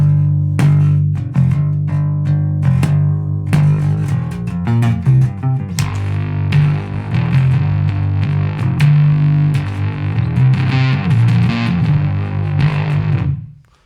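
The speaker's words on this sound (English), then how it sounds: "you get the idea that this is a very bass-friendly fuzz or distortion pedal" Electric bass riff played through a JDM Pedals Green Meanie fuzz distortion pedal, a thick, gritty low-end tone with fuzzy sustained notes and rhythmic plucked attacks, loud and continuous, ending in a quick fade.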